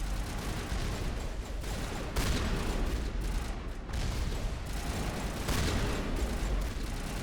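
Sustained turret gunfire in Mass Effect, a dense, continuous barrage of rapid shots and rumbling blasts that stays loud throughout with no speech.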